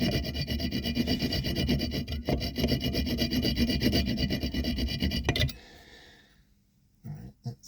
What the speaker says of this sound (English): I'm trying to cut an angle on something smooth and round with a blunt hacksaw blade